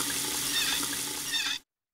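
Cartoon water gushing from a tap, a steady bright hiss of running water lasting about a second and a half before cutting off abruptly, loud and close with no talk.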